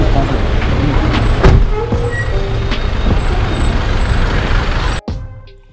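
Trucks and buses sit in a traffic jam on the Thimbam ghat road, heavy diesel engines idling and rumbling close by with a sharp hiss of air brakes, before the noise cuts off abruptly near the end.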